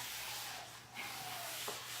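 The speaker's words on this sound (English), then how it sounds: "I am using a 60 grit sandpaper block, and it's sanding it really good" A 60-grit sandpaper block scraping across wood, a steady gritty rasp up close with a brief change in stroke midway.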